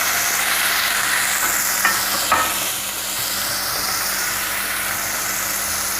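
Spring roll pieces sizzle in a hot pan, a dense, steady hiss with a couple of faint pops and no voices.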